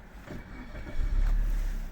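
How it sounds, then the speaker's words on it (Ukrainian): A 2016 Suzuki SX4 1.6 petrol automatic cranks and catches, its low engine rumble swelling up and settling into a steady idle. "все, що потрібно, потухло і заводимо."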